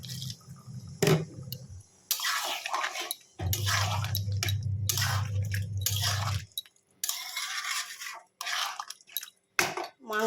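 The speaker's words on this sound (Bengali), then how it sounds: "এবার অল্প একটু জল দেবো, গরম জল" Hot water poured into a pot of chicken and vegetable curry with potatoes, giving a splashing, sizzling pour among clinks of a metal pot and spoon, with short pauses between bursts and no speech.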